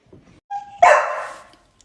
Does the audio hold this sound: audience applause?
no